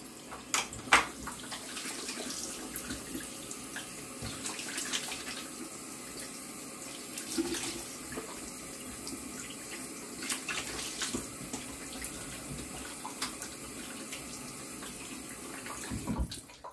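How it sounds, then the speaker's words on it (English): A bathroom tap runs steadily to rinse off after shaving with an Irving Barber Company shavette, a close continuous splash with small clinks and movements over it, no talking. "So I'm going to go ahead and give a good rinse."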